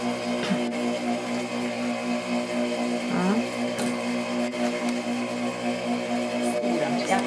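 A sewing machine runs steadily while stitching a French seam, a continuous mechanical whir with a rapid needle rhythm and a few brief knocks and scrapes, close by and without talk.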